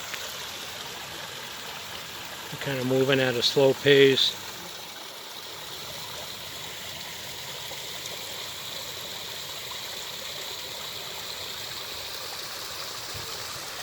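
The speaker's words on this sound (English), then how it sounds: "There's like a little circular current when the water streaming down." Water streams steadily down a small waterfall in a rock garden by Lake Harriet, making a constant broadband rushing hiss throughout; someone speaks briefly over it near the start.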